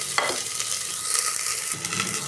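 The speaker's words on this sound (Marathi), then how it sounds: "तुपामध्ये आपल्याला अर्धे वाटे वाटाणे पण जरा आपल्याला फ्राय करून घ्यायचे आहे" Green peas frying in ghee for spinach pulao, giving a close, continuous sizzle with a few stirring scrapes and no voices.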